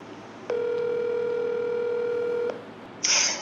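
A telephone line tone sounds while a call is being placed, a single steady electronic hum lasting about two seconds before stopping, followed by a brief noisy burst.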